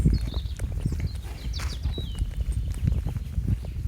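Horse hooves clip-clop at a steady walking pace on a soft forest path, close by, with faint birdsong in the background.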